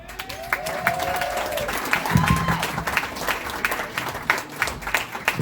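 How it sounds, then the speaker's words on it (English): An audience at a stand-up comedy show in Sauk Rapids, Minnesota claps and cheers for several seconds, with steady applause and some whistles and shouts from the crowd. "Let's give a big round of applause for Mike Brody."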